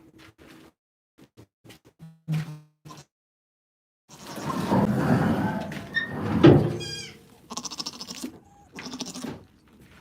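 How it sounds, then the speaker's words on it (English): A mother goat and her young female kid bleat on a farm, several short cries rising over scattered footsteps, a door and people talking nearby. "There's Mama Goat and this little girl."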